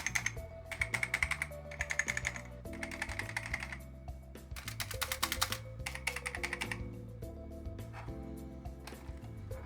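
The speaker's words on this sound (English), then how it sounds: "The micro switch buttons make it enjoyable to use." Keys clatter in quick bursts on an old micro switch keyboard for a 286-era AT replica PC, NTC-made and supporting XT and AT, with layered clicks and tonal hum beneath, no talking.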